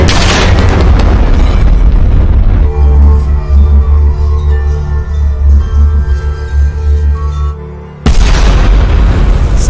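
In a film scene, a loud, booming gunshot blast opens the moment and a second heavy burst cuts in near the end, with a tense low rumble between them.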